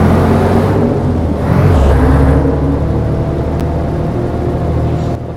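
An old 1980s-model bus engine in Euro Truck Simulator 2 drones loud and steady with low rumbling, easing slightly as it drives along, with no talk over it.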